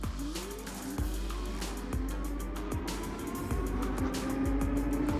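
A TST R002 moped-style electric bike with pedals accelerates down a slight 2% decline. Its motor whine climbs steadily in pitch over rhythmic ticking and road and wind noise, close by.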